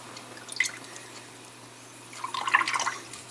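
A small number one paintbrush is swished and rinsed in a water jar, two short bursts of soft trickling and dripping splashes separated by a pause, close and fairly quiet with no speech.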